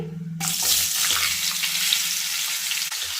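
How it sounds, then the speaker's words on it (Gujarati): Potato chips are dropped into hot oil with cumin seeds, bursting into a loud, steady sizzle and crackle that holds close-up with no talking. "આ રીતે તેલની અંદર ચિપ્સને આપણે સારી રીતે ફ્રાય કરી લેવાની છે"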